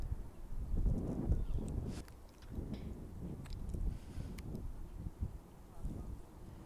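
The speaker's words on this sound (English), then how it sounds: "The drone is fighting the wind right now." Gusty wind buffets a microphone outdoors around a flying DJI Mini 3 Pro drone over a park in Dagenham, London, a steady low rumble that swells and eases throughout.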